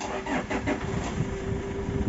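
Ford Everest diesel SUV engine starting, a brief low cranking rumble that settles into a steady mid-level hum, fairly close, with no talk.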